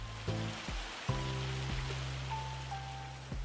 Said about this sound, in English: It's raining, so that's gonna suck.